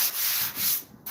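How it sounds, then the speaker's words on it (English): Close sandpaper rubbing on a drywall patch during hand spot sanding of a wall, three quick back-and-forth scratchy strokes with no voices. "Spot sand."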